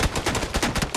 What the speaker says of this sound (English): Josh, my game is like hardcore bugged right now. Like the gunfire sounds